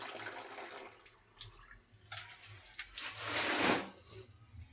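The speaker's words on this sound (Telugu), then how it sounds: "మళ్ళీ ఇంకో వాటర్లో నేను డిప్ చేసి పక్కన ఆరేస్తానండి" A powerloom saree is dipped and swished in a tub of rinse water, a soft sloshing and splashing that swells then fades, close and fairly quiet.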